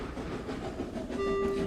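A goods train rumbles along the railway in a steady, close mechanical roar, with a sustained whistle tone sounding over it for the final half second.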